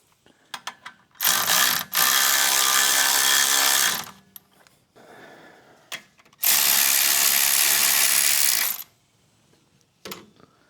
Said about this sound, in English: Trying to set that rubber bushing in there.